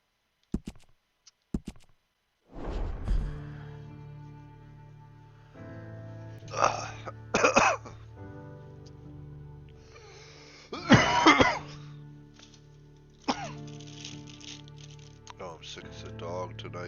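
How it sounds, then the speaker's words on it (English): A game streamer coughs repeatedly in loud, rough bursts and clears his throat, the fits scattered across the stretch with quiet gaps and a low steady hum between them. "Sorry for the coughing."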